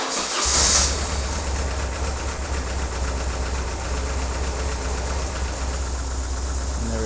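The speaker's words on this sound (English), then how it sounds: "Give the bike a wee start up." A BMW R1150GS motorcycle engine fires up during an oil change and settles into a steady idle. A close, continuous low rumble holds evenly with no talk over it.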